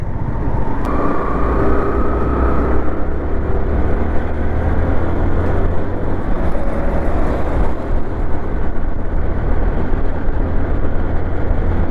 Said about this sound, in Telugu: వెనకాల ఒకటి కార్ అయితే వస్తుంది